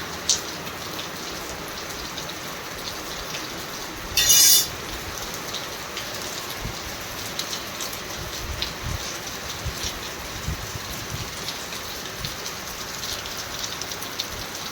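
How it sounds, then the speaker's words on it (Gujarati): Steady rain falling outdoors at a farm where millet flatbread is cooked over a wood stove, a continuous patter of drops with one brief louder burst partway through. "અને બીજે બધે વરસાદ ચાલુ છે"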